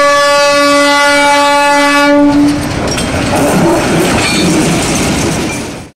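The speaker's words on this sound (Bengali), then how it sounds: "পাহাড়ের গায়ের সঙ্গে ঘেঁষাঘেঁষি করে টয় ট্রেনটাকে আসতে দেখে ভীষণ সুন্দর লাগছিল।" On a mountainside near Kurseong, a toy train sounds a loud sustained horn blast for about two seconds, then rumbles and clatters past close by on its rails, fading out at the end.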